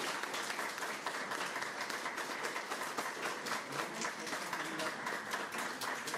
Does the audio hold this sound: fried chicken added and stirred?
no